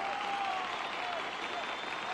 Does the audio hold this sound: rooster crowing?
no